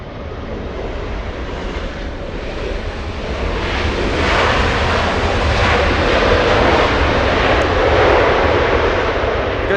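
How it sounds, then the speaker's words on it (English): A Lufthansa Boeing 747 arrives on the runway at Los Angeles International Airport with a loud, rushing engine roar that builds and holds steady throughout, close and with no speech. "Good sound, smooth arrival by Lufthansa"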